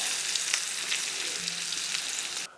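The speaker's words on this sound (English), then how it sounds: "let me get all of this browned up in this bacon grease" Oxtails browning in bacon grease give a steady, loud close sizzle with crackling pops throughout, cutting off abruptly near the end.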